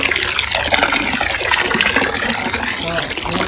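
Water pours steadily into a home fish tank holding fish and overgrown plants, a loud continuous gushing splash that stays close and even throughout.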